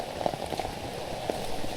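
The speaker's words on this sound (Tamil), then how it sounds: "செம்ம மழை பெஞ்சிக்கிட்டு இருக்கு." Heavy monsoon rain near Dudhsagar Waterfall pours steadily in a dense, close hiss, with scattered droplet splashes and no voices.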